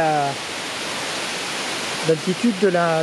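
Rudlin cascade waterfall rushing in a steady, close, hissing roar throughout, with a voice briefly over it at the start and again near the end.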